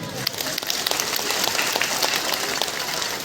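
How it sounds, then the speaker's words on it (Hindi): Crowd applause at a public event in Chhattisgarh, a dense, steady patter of many hands clapping at once, fairly loud and sustained throughout. "जोरदार तालियों की गूंज होनी चाहिए एक बार फिर से आप सबकी ओर से"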